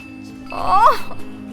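A short electronic ringtone warbles briefly, rising and falling in pitch, against a faint steady hum.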